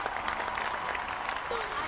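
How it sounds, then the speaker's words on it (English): An outdoor crowd at a Battle of Hastings reenactment at Battle Abbey claps steadily for the fallen warriors, a soft, continuous wash of applause with faint voices mixed in. "A round of applause for the vanquished."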